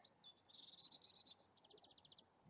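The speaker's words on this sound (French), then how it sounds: "Les oiseaux." Birds chirp outdoors in a calm setting, a faint, high, rapid string of tweets and trills with short pauses, heard alone against quiet background.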